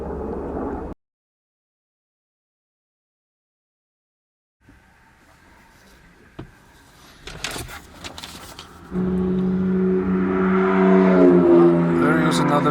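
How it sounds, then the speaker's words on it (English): Two sports cars drive past on a road in Utah in autumn, rising from faint to a loud, close rush of engine and tire noise after a stretch of near silence and scattered clicks. "there goes 2 sports cars"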